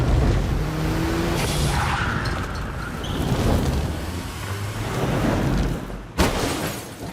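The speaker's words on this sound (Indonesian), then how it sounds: "langsung tancap gas dan pergi menuju ke garasi yang lokasinya sudah tidak jauh dari sana" A car speeds off in a film scene with a loud, continuous engine roar and rushing road noise that swells and dips, and a sharp crack near the end.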